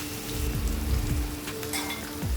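Onions frying in oil with cumin seeds in a kadhai, a steady close sizzle with soft crackles and occasional stirring scrapes, no voices.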